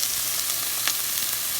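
Seasoned onions frying in a pan, a steady close hiss and sizzle with a faint stirring scrape, no voices.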